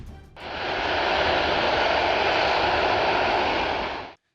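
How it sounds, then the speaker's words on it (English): A Mikoyan MiG-25 supersonic reconnaissance jet gives a loud, steady, broad engine roar that starts abruptly, holds even for about four seconds, then cuts off. "The MiG-25 is a supersonic reconnaissance aircraft that's part of Russia's S-155P missile interceptor system."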